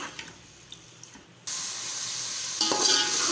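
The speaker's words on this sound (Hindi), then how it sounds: "और इसको लहसुन अदरक के पेस्ट के साथ थोड़ी देर भून लेंगे।" Chicken with garlic-ginger paste hits hot oil and breaks into a loud, steady sizzle after a few quiet clinks, growing louder again near the end.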